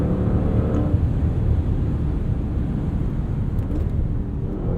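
A 2021 Maserati SUV engine in Corsa mode: a steady, loud low rumble heard from the cabin while driving, holding an even drone throughout without distinct revs, and nobody talking.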